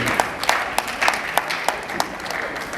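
An audience at a memorial symposium and launch applauds guest Honorable Chijoke Obodo, a thin, sustained wash of clapping with a few sharper claps standing out, moderately near, with no voices over it.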